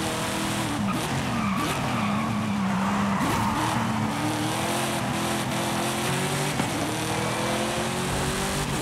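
A Mazda RX7 Spirit in Forza Horizon 5 skids steadily, tires squealing loud and continuous over a droning engine, with the squeal pitch wavering as the car slides through corners.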